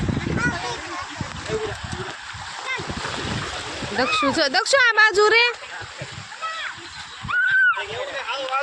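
Sea water splashes and sloshes as people bathe in the shallows, with children's voices calling out and chattering over the steady wash.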